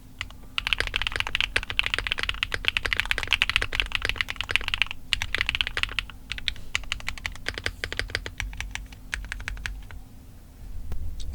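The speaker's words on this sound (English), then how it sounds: "let's do a quick sound test of the LK60 Pro now." Someone types steadily on an LK60 Pro mechanical keyboard with pre-lubed stabilizers, giving close, clear, rapid key clacks in a continuous rhythm with a brief pause near the middle and a few louder strokes.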